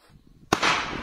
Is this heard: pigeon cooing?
no